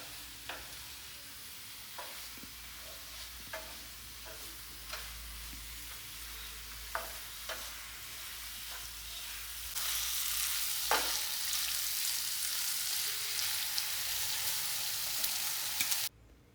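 Turmeric, chilli and coriander powders sizzle in coconut oil as they are stirred for a chicken dish, giving a continuous crackling fry with scattered scraping taps. The frying grows louder and hissier in the second half.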